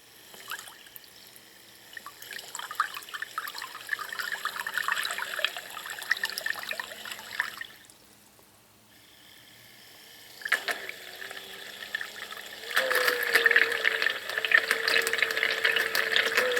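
A small RC car's electric motor is run under throttle while submerged in water to flush dirt out, giving a churning, splashing whir that rises and falls in bursts, with a quiet gap partway through.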